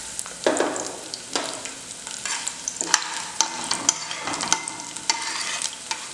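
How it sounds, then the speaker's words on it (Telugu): Urad dal, chana dal, cumin and chopped garlic frying in hot oil for carrot chutney, with steady sizzling broken by repeated sharp scrapes and clinks of a spatula stirring the pan, close and clear with no talking. "ఆయిల్ వేడెక్కిన తర్వాత మినపప్పు వేసుకోవాలి, కొద్దిగా శనగపప్పు, కొద్దిగా జీలకర్ర."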